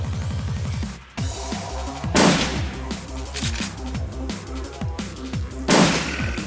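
Gunfire in the turn-based game Shadowrun Returns: a few sharp, loud shots crack over rhythmic game music, with a bright blast near the middle and another near the end.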